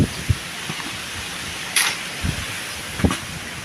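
Steady, rushing broadband noise like strong wind blowing, with a few dull thumps and brief gusts rising over the background. No one speaks.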